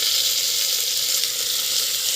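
Shredded cabbage sautéing in a hot pan, a loud continuous hiss of sizzling that stays steady and even throughout with no voices.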